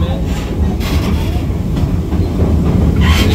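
Old-fashioned tourist train in Australia rolling along the rails with a steady low rumble and faint wheel clatter throughout, loud and continuous with no clear talk.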